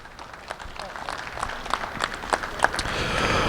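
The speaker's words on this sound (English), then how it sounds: "these exhibitors need a really nice round of applause for bringing out these great cows" Audience applause for exhibitors in a Guernsey dairy cow show ring, with scattered clapping under an announcer's amplified voice that grows into fuller applause toward the end.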